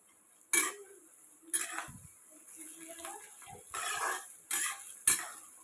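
Sliced carrots fry in a tempering pan for a soya chunks dish, with sharp metal clinks of a spoon stirring against the pan and a faint sizzle between strikes, close and fairly quiet.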